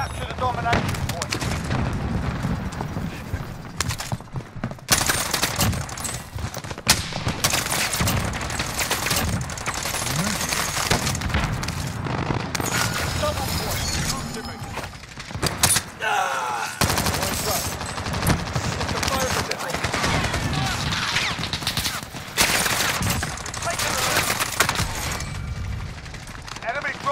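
Call of Duty: Modern Warfare multiplayer combat fills the mix with near-constant machine-gun fire, rapid gunshots and explosions, while voices call out under the din.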